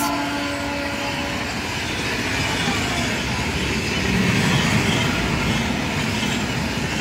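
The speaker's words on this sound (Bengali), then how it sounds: "বেঙ্গালুরু হাওড়া। এখন আমার পাশে দিয়ে যাচ্ছে" A Bengaluru–Howrah express train passes close by, its loud continuous rumble and wheel clatter steady throughout with a slight swell toward the end.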